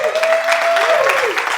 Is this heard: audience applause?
yes